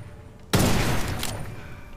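A rifle fires in the first-person video game Witchfire, a single sharp, loud blast that breaks off a quiet stretch and trails into a long rumbling decay.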